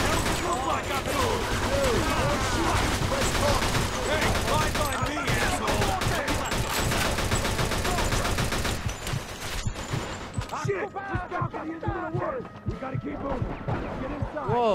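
Dense, loud gunfire from the video game Mafia 2, rapid overlapping shots and bursts filling most of the stretch before thinning into scattered shots, with a voice talking over the action.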